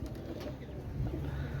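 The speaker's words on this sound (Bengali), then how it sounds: "গলায় লাল কবুতর নাম করা কবুতর ভাই" Red-necked pigeons coo softly in a low, murmuring run from a pen of fancy Pakistani pigeons, steady and fairly near with no talk.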